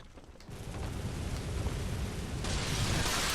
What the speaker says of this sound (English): Oh, there's going to be an explosion here.